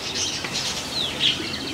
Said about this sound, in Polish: Przepiękny gołąb.